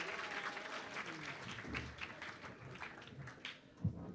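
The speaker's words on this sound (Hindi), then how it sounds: "अब तालियां बजा सकते हैं" Crowd applause at a theatre festival opening ceremony, dense steady clapping from many hands with a few louder claps and a thump near the end, no voices on top.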